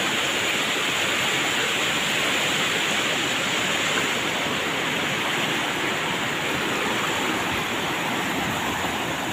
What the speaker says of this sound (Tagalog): Okay, so lakas ng agos.